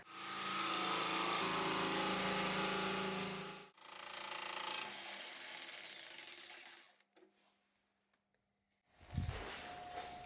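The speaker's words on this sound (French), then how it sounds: "Mathis va venir avec la scie sauteuse pour découper du coup la forme dont on a besoin" A loud, steady jigsaw buzzes continuously cutting van bodywork, cuts out briefly, then resumes with a rougher mechanical rasp before stopping; a clunk and some rustling follow.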